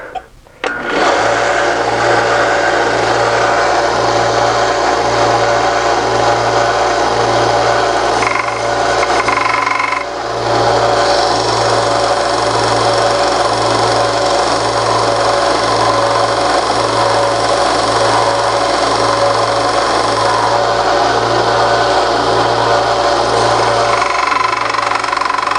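A belt sander grinding a brass model part for a D11N, a loud continuous close whine with a steady pulsing rhythm from the belt, briefly interrupted once and then resuming.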